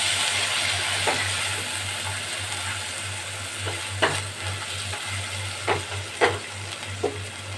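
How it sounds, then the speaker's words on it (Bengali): Pointed gourd korma sautéing in a pan: a steady sizzle with a low hum beneath, and scattered short scrapes of a spatula stirring, close and without talk. "এটাকে আমি একটু ভালো করে কষিয়ে নেব।"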